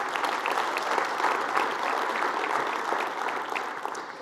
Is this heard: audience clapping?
yes